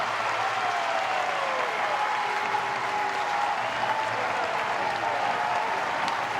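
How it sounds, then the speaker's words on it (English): A Louisville crowd at an NCAA baseball super regional game against Miami rises to its feet, with sustained applause and cheering from a large stadium audience filling the air steadily and broadly at a distance. "already this crowd coming to its feet in Louisville"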